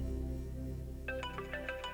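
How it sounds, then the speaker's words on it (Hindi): A phone's ringtone for an incoming call plays a bright, repeating electronic melody of quick tonal notes that begins about halfway through, clear and fairly close over soft background music. "जैद का फोन आ गया।"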